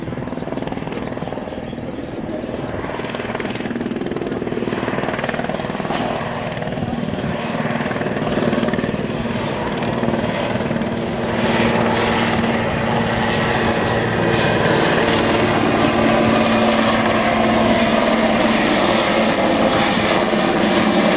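A Boeing Chinook helicopter flies at the RIAT 2014 air show, its rotors throbbing in a continuous rumble that grows gradually louder and nearer.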